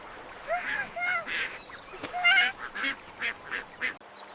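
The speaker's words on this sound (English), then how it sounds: "A family of ducks!" A family of ducks calls out in a string of loud honking quacks, one after another with brief gaps, close by and not masked by any talk.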